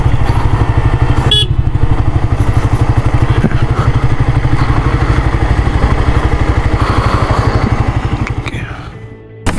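A Suzuki GSX-R 150 motorcycle engine runs near and loud with a rapid, steady pulsing idle, a brief clatter early on, then fades slightly before cutting off at the end.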